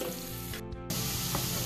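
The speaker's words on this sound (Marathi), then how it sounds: "मी आता कांदा घालते। कांद्याला देखील आपल्याला छान परतून घ्यायचंय।" Onion frying with cumin in a hot pan gives a steady, close, loud sizzle, broken by a brief dip and then a surge as the onion goes in.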